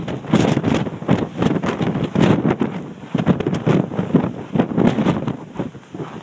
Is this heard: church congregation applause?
no